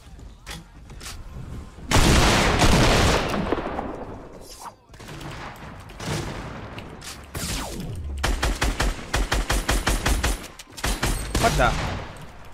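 Rapid shotgun blasts in a first-person shooter video game, loud bursts of gunfire in quick succession with short gaps, several separate volleys across the clip and no voices over them.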